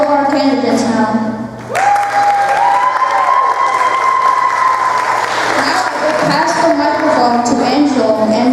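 A research class at a mock debate breaks into loud applause and cheering for the candidates, a dense wash of clapping with whoops and raised voices throughout.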